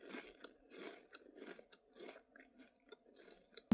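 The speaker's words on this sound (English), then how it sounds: "I'm going to try cream cheese and crackers" Crackers topped with cream cheese are chewed close to the mic in a run of crisp, crunchy bites, about six or seven irregular chomps with short pauses between them and no talking.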